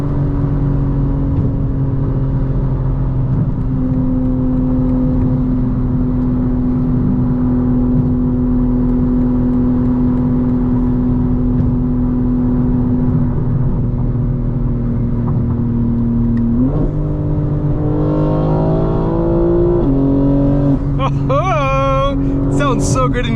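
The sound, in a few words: 2025 BMW M4 Competition xDrive engine while drifting, heard inside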